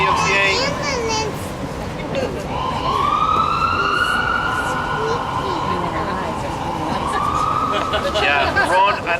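An ambulance siren wails from a distance, a long rising and falling tone that swells and fades across the clip, heard over the murmur of an outdoor vigil crowd with voices talking nearby.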